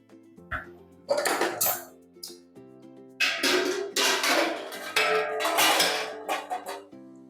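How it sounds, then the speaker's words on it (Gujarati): A steel plate of khaman batter is set down into a metal pot, giving several loud clanks and scraping metal knocks in bursts, close and without talk. "હવે આ થાળીને આપણે તપેલામાં મૂકી દઈશું."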